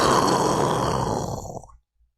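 A voice imitates an exaggerated movie gunshot: one long, roaring, blasting burst with a rough noisy texture, loud and close, fading out after under two seconds.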